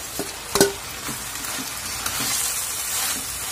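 Leafy greens are stirred into sautéed onion and dal in a pan, giving a steady soft sizzle with a few sharp scraping knocks of a spatula near the start, no talk.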